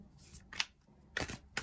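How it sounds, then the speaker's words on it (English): Tarot cards are shuffled briefly by hand, a few soft riffling bursts close to the microphone in an otherwise quiet room. "I'm just shuffling a little bit."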